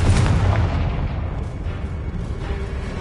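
A Confringo blasting spell explodes in the Hogwarts Legacy video game: a single loud, booming blast at the start that rolls off into a long, rumbling decay.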